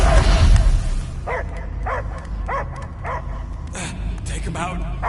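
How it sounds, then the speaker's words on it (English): In the video game Marvel's Guardians of the Galaxy, a creature lets out a rhythmic series of about six dog-like barks and yelps, mid-distance, with voices talking over them against a low rumbling background. "I hear only barking."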